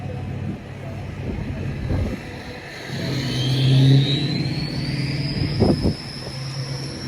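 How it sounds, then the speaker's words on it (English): Truck passing at night on a Philadelphia street, its turbo giving a rising high whistle over a rumbling engine and traffic noise, swelling as it nears, with a voice speaking briefly. "Wow, you can hear the turbo in that truck. That truck had a whistle."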